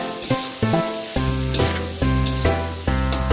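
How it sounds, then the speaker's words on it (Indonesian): Fried potatoes tossed through balado chili sauce in a hot pan, a loud, steady close sizzle with stirring, set against background music. "Selanjutnya, masukkan kentang goreng dan kita aduk-aduk sampai merata."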